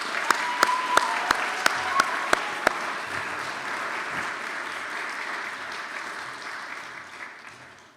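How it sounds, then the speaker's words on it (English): A school chapel audience breaks into sustained applause, steady clapping filling the room for several seconds before fading out toward the end. "let's give her a warm welcome and round of applause."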